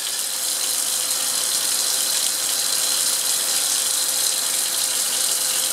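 Wash liquid poured all at once into a laboratory beaker during chromium trioxide preparation, a steady, close, continuous rushing splash of liquid lasting throughout with no talking.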